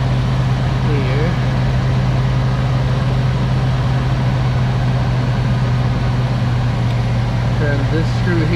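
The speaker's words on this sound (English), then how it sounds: "Now we're going to turn the idle down a little bit" A car engine idles with a steady, low, droning hum while its idle screw is turned counterclockwise to lower the speed. The sound stays constant and fairly loud throughout.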